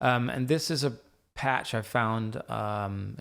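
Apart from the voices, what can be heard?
None of the usual background noises is heard.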